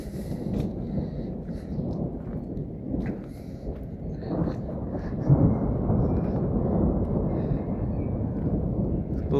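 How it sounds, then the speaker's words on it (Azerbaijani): Thunder rumbles during a May storm over rocky hills, a deep, rolling roar that swells and stays loud throughout, with wind buffeting the microphone. "Buludlar bir-birə sıxlaşdıqca ildırımın sürəti də artır, səs-küy də artmağa başladı."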